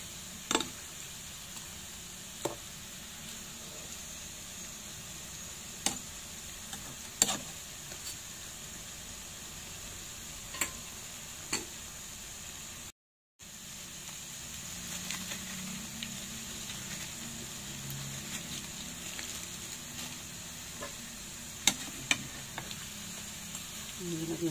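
Banana cue frying with sugar in a pan until caramelized gives a soft, steady sizzle and bubbling, broken by sharp clicks and ticks from stirring, with a brief silence midway and no talk.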